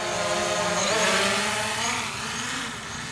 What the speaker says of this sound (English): So here's an acceleration example while the drone is in sport mode.